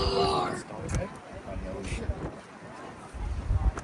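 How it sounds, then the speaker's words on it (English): Gusty wind rumbles and buffets across an open golf course in Hawaii, with loud low-frequency bursts at the start and end, while people talk now and then. "It's windy out."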